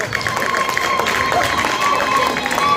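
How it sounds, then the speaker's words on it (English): An audience at a national primary schools music festival claps for the children, a dense steady patter of many hands mixed with crowd murmur and a few high whistles, filling the whole stretch. "let us give the children a very big hand clap"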